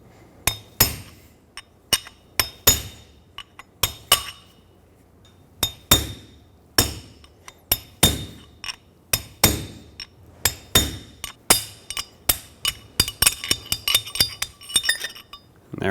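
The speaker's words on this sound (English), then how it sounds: "I'm going to use a punch and punch that through" Metal punch struck repeatedly with a hammer to drive out a wheel bearing race on a 2011-2016 Ford F-350, sharp ringing clinks in irregular bursts that speed up into a rapid flurry near the end, close and alone.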